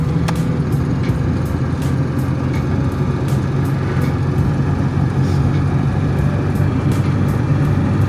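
A ZAZ Tavria with an unstable idle runs and pulls away after a push start, its engine a loud, continuous low drone close by, steady throughout with no talk over it.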